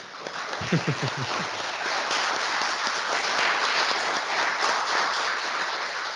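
A crowd applauds steadily and continuously, a dense wash of clapping that carries on throughout, with a brief voice near the start.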